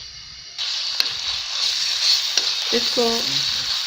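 Garlic and ginger paste fries in hot oil with a steady bright sizzle and a few stirring knocks, while a voice says a word briefly near the end.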